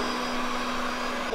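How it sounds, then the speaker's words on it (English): An automatic robot vacuum cleaner runs indoors in a home with a shedding Siberian Husky, giving a steady, close motor whine with a constant hum that holds evenly throughout. "An automatic vacuum cleaner."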